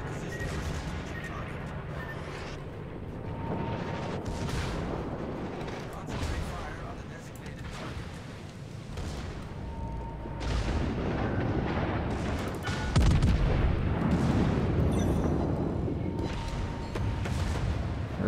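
Naval guns fire in World of Warships ranked battle, a steady barrage of heavy booms and rumbling blasts overlapping one another, loud and continuous throughout.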